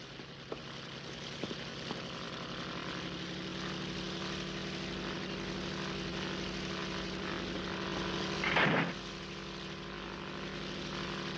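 Propeller engines of the last rescue airplane run steadily in an animated film, a continuous droning hum throughout with a brief louder burst near the end and no talk.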